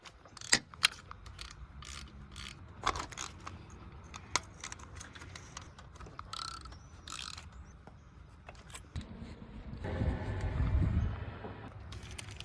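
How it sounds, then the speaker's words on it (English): Ratchet and wrench work removing valve cover bolts and connectors on a Honda/Acura 3.2 V6 J-series engine, with close, irregular metallic clicks and clatter, followed by a louder rustling, scraping handling sound near the end. "you're gonna remove all of these bolts and these connectors"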